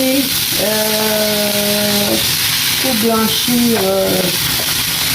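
Spinach fries in oil in a pan for a quiche, giving a constant loud sizzle and hiss under someone talking.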